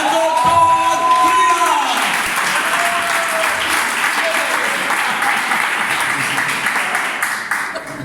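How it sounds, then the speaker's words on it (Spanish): Audience applauding the doctor at an evening Bible science gathering, a dense, sustained wash of clapping that fills the room, with a voice speaking over the start before the applause gradually thins toward the end. "démosle un aplauso al doctor"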